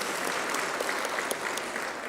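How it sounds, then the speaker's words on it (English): Steady applause from a conference audience at a high-level Africa civil society AML/CFT event in Gaborone, dense even clapping filling the room without a break for about two seconds, with no voices on top. "We can give you a round of applause"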